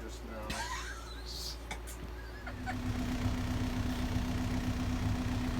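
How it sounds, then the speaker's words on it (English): An old Perkins diesel boat engine runs at a steady idle with a low, even drone and a slight vibration, while people talk over it near the start. "This is the old Perkins diesel. Has a little vibration."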